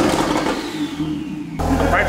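A Porsche engine revs hard for a moment, with a loud mid-pitched roar that drops off then surges back abruptly, close by, with a voice talking over it.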